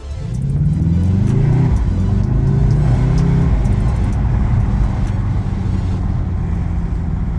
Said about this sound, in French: on a une belle sonorité. V8, hein. Biturbo